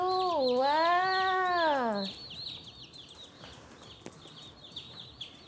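Chickens in a school lesson on preparing a brooding pen, a long wavering call at the start followed by faint, repeated short clucks and chirps close by.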